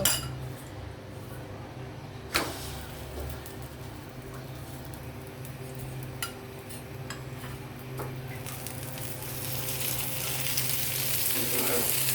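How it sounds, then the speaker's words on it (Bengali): An aloo paratha with sweet potato and chicken mince fries in a mix of butter and oil, a soft continuous sizzle with a low hum, a couple of sharp clinks of a utensil on the pan, and the hiss growing louder near the end. "এখন আমি এটাকে ভাজতে চলে যাব আমি এখানে কিছু বাটার সঙ্গে একটু তেল মিক্সড করে নিয়েছি এটা দিয়ে ভাজব"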